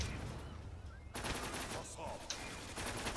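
Continuous heavy gunfire in the shooter game Zula, a loud, dense wash of automatic shots and blasts filling the whole few seconds, with a brief break around the one-second point.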